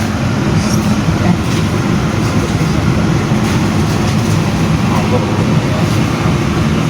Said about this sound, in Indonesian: Argo Wilis diberangkatkan kembali dari stasiun Tasikmalaya